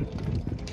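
Wind buffets the microphone at the Giza pyramids near Cairo, a steady low rumble with gusty swells across a brief, continuous stretch and no voices.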